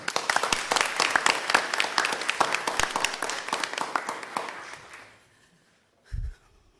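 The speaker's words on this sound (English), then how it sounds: "So please give them a round of applause." Audience applause at a school board meeting, many hands clapping densely for about five seconds before fading out, then a brief low thump near the end.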